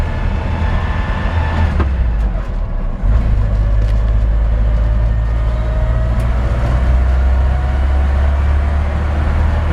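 A 1965 Ford F100 lowrider pickup drives along, its steady low engine and road rumble close and continuous, with a brief dip and gear change early on before settling into a smooth cruise.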